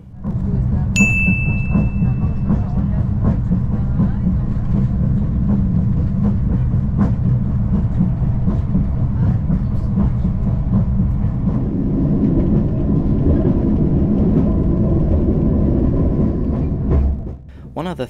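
Interior of an Afrosiyob high-speed train in Uzbekistan, a steady low rumble of the carriage in motion running throughout, with a brief high ding near the start and a voice talking over it.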